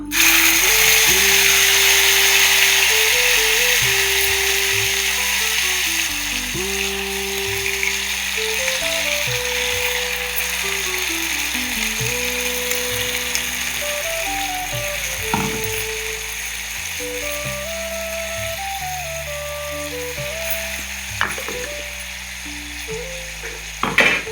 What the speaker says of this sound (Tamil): இது நல்லா ஃப்ரை ஆகணும் பச்சை வாசம் போகிற அளவுக்கு ஃப்ரை ஆகணும்